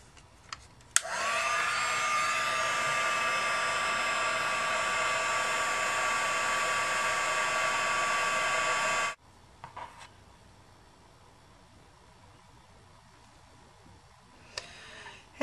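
A hair dryer heats embossing powder on stamped paper flowers, blowing as a steady, fairly loud whir for about eight seconds before cutting off, followed by quiet handling sounds.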